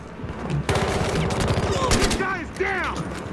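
Rapid AKM rifle fire in Battlefield Hardline multiplayer, a dense close burst of shots lasting a few seconds, with a voice speaking faintly underneath.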